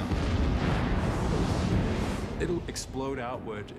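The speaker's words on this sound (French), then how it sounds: "Elle va exploser vers l'extérieur et tout déchiqueter." A dense, rumbling roar of an explosion fills the first seconds, then fades as a voice begins speaking.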